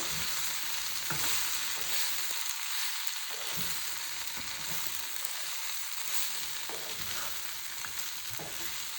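Stuffed okra mixed in a pan, a steady loud frying sizzle throughout with occasional soft scrapes and taps as the spoon turns the vegetables.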